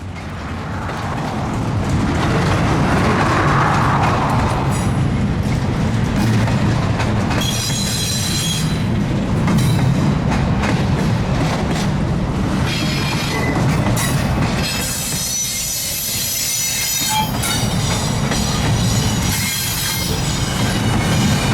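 Freight trains moving on the Kansas City Southern line, one easing into a siding. Loud continuous rumble of railcars rolling past nearby, with wheel squeal and clickety-clack joints throughout, and no speech.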